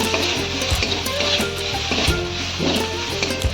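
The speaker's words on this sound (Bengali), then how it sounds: "পেঁয়াজ আদা রসুন খুব ভালো করে কষিয়ে নেওয়ার পরে এখন এর মধ্যে দিয়ে দিচ্ছি হলুদের গুঁড়ো, লঙ্কার গুঁড়ো আর নুন" Onion, ginger and garlic sautéing in a pan with turmeric, chili powder, salt and cumin powder stirred in, giving a steady close sizzle with scraping stirs throughout and no talking.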